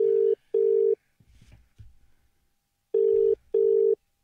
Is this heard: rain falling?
no